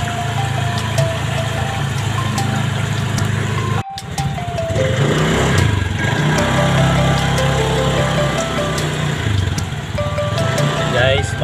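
Speedboat engine pulling away across flooded water near an airport village during shearline weather, a steady low drone running under voices throughout, with a brief dropout partway through.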